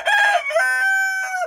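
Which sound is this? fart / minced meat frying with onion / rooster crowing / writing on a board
rooster crowing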